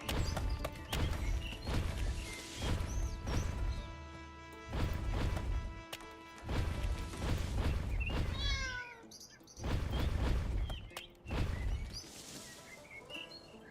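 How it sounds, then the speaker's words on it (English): Cat meows in the city-building game Pompeii: The Legacy, several short cries scattered among thuds, crashes and bird calls over a busy background of game sound, with no talking. "I hear a cat."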